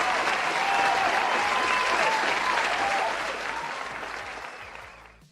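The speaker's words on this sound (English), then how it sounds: "Ron, you know what, Ron? I think you deserve an applause." Dense, steady applause congratulating a futures trader named Ron during a live trading stream, loud and sustained before gradually fading away toward the end.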